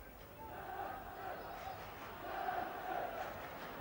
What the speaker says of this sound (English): And now the crowd swelling to a roar, trying to push them forward, keep them going.